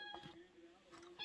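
A cat meows twice in a room, the short calls rising over a steady background hum with faint noise around them.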